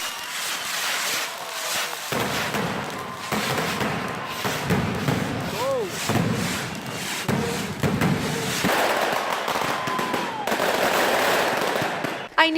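Fireworks and firecrackers burst in a dense, continuous barrage, loud and near, with thumps and crackles stacking over a steady wind rush and faint voices underneath.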